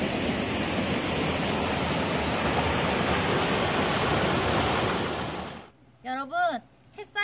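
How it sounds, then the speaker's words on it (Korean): Clear mountain valley stream rushing through Sobaeksan in early spring, a steady loud broadband wash of flowing water that cuts off abruptly near the end, followed by brief faint sounds. "우리 같이 청량한 물소리를 들어볼까요?"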